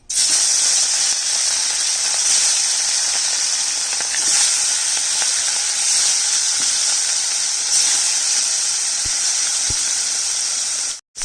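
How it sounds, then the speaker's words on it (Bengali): Rohu fish pieces fry in hot oil, one after another, with a loud, close, continuous sizzle and hiss that holds steady for several seconds and then cuts off abruptly near the end. "এবার আমি একটা একটা করে মাছ দিয়ে দিচ্ছি"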